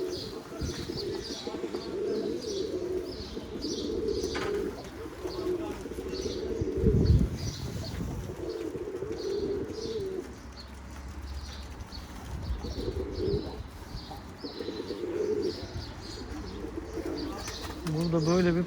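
White tumbler pigeon and other pigeons cooing in a windy outdoor loft, soft repeated coos with occasional wing flaps, steady wind noise and someone talking throughout.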